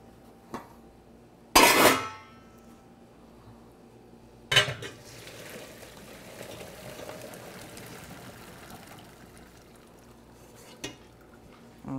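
Pots, a metal colander and utensils clatter on a home kitchen counter while potatoes are readied for draining, with one sharp loud clang, a second knock and scattered lighter clinks over low background rumble.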